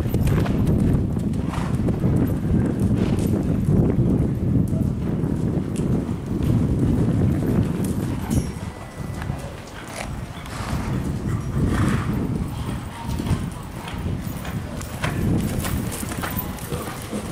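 Several horses canter on soft footing in a county fair show arena during a command rail class, their steady hoofbeats rolling continuously with wind noise over the microphone and an occasional whinny.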